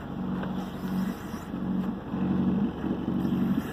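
A sailboat's inboard engine runs under reduced throttle at a steady cruising speed, a low droning hum with a slight pulsing rise and fall, close by and continuous with no voices.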